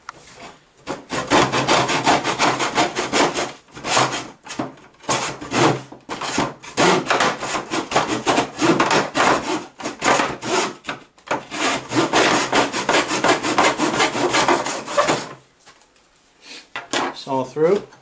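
Hand saw cutting wooden trim square in a miter box: long runs of fast, rasping back-and-forth strokes, loud and close, with brief pauses between bursts and a short voice at the end.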